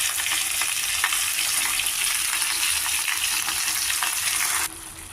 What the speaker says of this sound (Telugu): ఇప్పుడు ఇందులోనే మిక్సీ చేసిన ఉల్లి మసాలా పేస్ట్ పేస్ట్ కూడా వేసేసుకుని పచ్చివాసన పోయేదాకా కొంచెం వేయించుకోవాలి